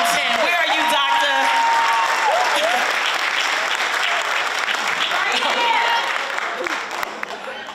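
An audience claps for an elementary school principal at an arts-center event, a dense, loud wall of applause that holds steady for several seconds and thins toward the end, with crowd voices mixed in.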